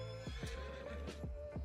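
Horse whinnies and snorts in the farming game Farming Simulator 25, several short neighs repeating over a steady hum of background game sound, fairly close and clear.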